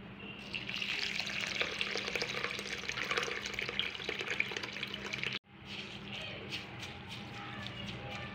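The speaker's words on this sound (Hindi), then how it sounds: "अब मैं इसमें पानी डाल के इसको भिगोने रख दूंगी।" Water runs steadily into a container of rice, moong, urad, masoor and chana dal with peanuts for soaking, a close, continuous splashing pour that stops abruptly partway through, leaving quieter dribbling and settling.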